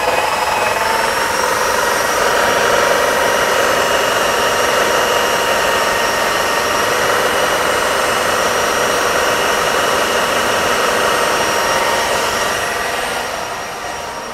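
A power drill runs a Fiat 126p fuel pump to drain fuel, giving a loud, steady whirring drone with a high tonal whine that holds for the whole stretch before easing off slightly at the end.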